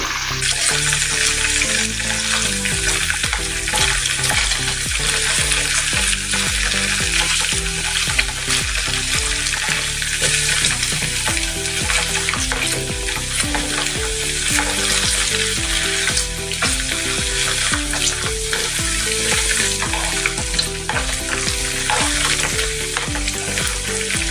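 Paneer pieces fry in hot oil in a pan with a loud, dense, continuous crackling sizzle that holds steady and close throughout, with no voices.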